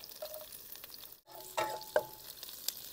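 Garlic sautés in hot cooking oil, a soft continuous sizzle broken by a brief pause and a few sharper stirring clinks and pops, close and moderately quiet, with no voice.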